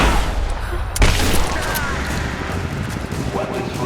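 Rise of the Tomb Raider firefight at the edge of a village, with loud booming shots and a sharp crack near the start over a constant rumble of battle, while a voice talks underneath.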